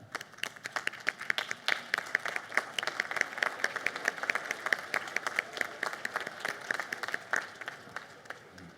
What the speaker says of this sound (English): I want you to stand now and applaud those that you've brought with us today